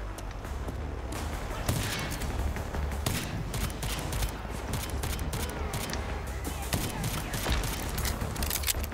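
Rapid gunfire from the video game RAGE 2: dense, continuous volleys of loud shots crackle over a busy in-game soundscape with no break for the full stretch.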